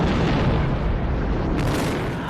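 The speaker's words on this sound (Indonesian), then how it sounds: "Hingga tak lama kemudian mobil tersebut meledak." A car explodes in a film: a loud, rumbling explosion with a sustained roar and crackling debris, dense and heavy throughout, with no voices.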